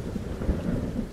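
A low rumble of cartoon thunder rolls under steady rain in an animated episode, a short continuous storm sound with no voices.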